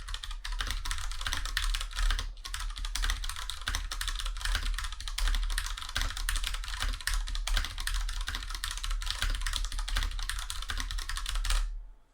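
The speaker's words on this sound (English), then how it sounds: "I'm actually typing at a pretty decent pace too" Steady, brisk clacking of an IQUNIX F96 Coral Sea wireless mechanical keyboard, close up and continuous for several seconds, then stopping abruptly.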